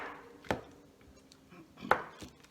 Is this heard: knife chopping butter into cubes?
yes